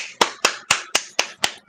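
Seven sharp, evenly spaced hand claps or snaps ring out close and clear at a steady brisk rhythm, each a crisp broadband crack with a short decay, at a panel discussion with no talking over them.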